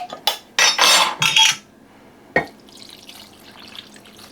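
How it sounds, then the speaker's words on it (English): Broth from a jar pours into a pot of Kentucky burgoo in a few loud splashing gushes, then a single clink of the jar or utensil, followed by quiet kitchen background. "I want to make sure everything is underneath the broth. So I'm going to go ahead and add another jar of that."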